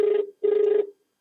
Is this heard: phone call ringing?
yes